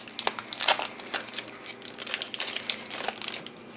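Plastic wrap crinkles and crackles as a card pack for the Gloomhaven board game is unwrapped, close up, in irregular bursts of crisp rustling with no talking.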